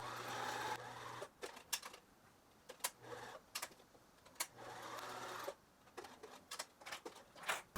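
A sewing machine stitches a linen string dress in short bursts of rapid mechanical chatter, starting and stopping several times, close and fairly quiet, with soft handling noises between runs.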